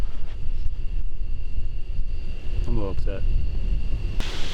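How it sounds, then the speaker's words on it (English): Gusty wind of about 15 mph buffets the microphone outdoors in Pennsylvania with a constant low rumble as someone speaks briefly over it. "Apologize for the wind."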